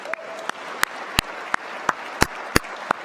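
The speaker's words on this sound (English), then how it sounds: "That's worth a round of applause." Sparse, evenly spaced individual claps ring out at a university convocation, roughly three per second, each a sharp crack over a faint, hushed room background rather than a full burst of crowd applause.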